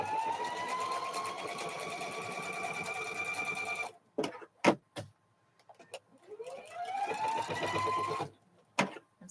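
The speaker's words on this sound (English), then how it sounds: "I'm sewing a strip together here" A sewing machine runs steadily for about four seconds as quilt strips are stitched together, stops amid a few soft knocks and clicks, then whirs back up to speed for another long run before halting.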